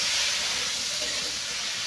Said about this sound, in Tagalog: Lagyan na natin ang ating hipon.